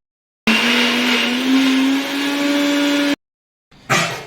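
An electric mixer grinder grinds taro into paste with a loud, steady, high whir for a few seconds. It stops, then starts again with a short burst.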